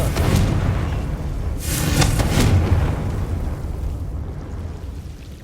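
Confringo fire spell blasts in Hogwarts Legacy, two booming fiery bursts in quick succession followed by crackling rumble that fades toward quiet.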